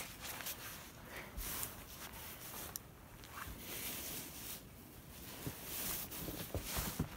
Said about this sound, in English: That's the sound of the snow under my feet.